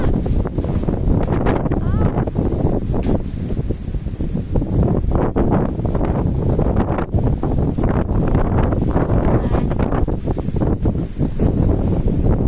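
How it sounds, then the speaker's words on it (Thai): Strong storm wind gusts through a backyard garden, roaring and buffeting the microphone in a loud, continuous rush that swells and dips throughout. "ลมแรงมาก"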